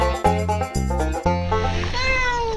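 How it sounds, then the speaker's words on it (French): A two-month-old female European kitten meows repeatedly and clearly, a series of close, bright cries ending in one longer drawn-out meow, with no talking. "Voici Laïs, un chaton femelle européen âgé de 2 mois."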